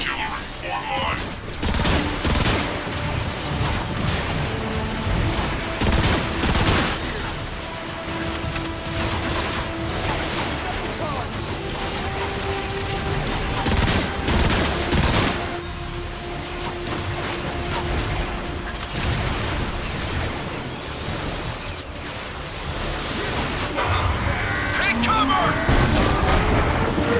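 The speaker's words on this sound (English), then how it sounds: "I'd be curious as to what an artillery strike would do to that marauder" Artillery strike in a shooter video game, with a dense barrage of booming explosions, crashing impacts and rattling mechanical noise that runs unbroken and loud throughout.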